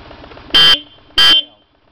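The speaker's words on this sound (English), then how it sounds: "Horn." Two loud, close car horn honks, each about a fifth of a second, sound during a vehicle check, with a short pause between them and light idle noise underneath.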